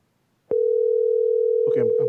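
A steady telephone dial tone sounds loud and continuous after a brief click while calling into a county commissioners court meeting by phone, with a person's voice talking over the tone near the end.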